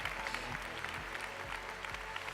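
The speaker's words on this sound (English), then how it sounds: "Give her a round of applause anyway" Steady applause from a large conference audience, dense continuous clapping throughout with a low rhythmic hum underneath and no speech.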